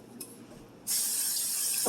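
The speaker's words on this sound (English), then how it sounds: "I'm going to spray the tray lightly." After a brief quiet moment, a continuous aerosol butter spray hisses loudly and close up onto an air fryer tray for about a second, steady and unbroken.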